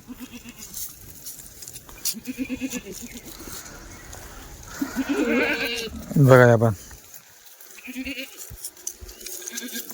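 Kathiyawadi goats bleat on a farm, with one loud, close, drawn-out bleat standing out midway. Someone speaks intermittently before and after it, and quieter bleats and shuffling are heard in the background.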